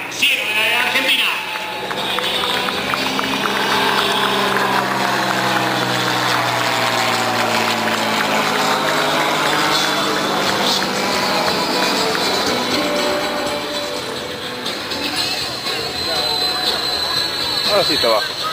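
An aerobatic propeller airplane hangs on its propeller in a torque roll at an air show, its engine droning loudly with slowly shifting pitch throughout, under an excited commentator's voice.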